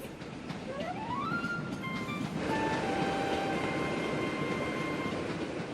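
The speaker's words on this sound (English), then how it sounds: "It's really the train that's moving, Caillou." A cartoon passenger train pulling out of a station, a steady rolling rumble with rising whistle-like tones at first, then sustained hums, moderately loud and continuous with no talk.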